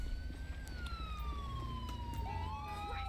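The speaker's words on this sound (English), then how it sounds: "Can you please turn your fucking siren off?" Police car siren in GTA 5 LSPDFR, wailing close and continuous over a rumbling engine, its tone sliding slowly down before a second siren sweeps upward near the end.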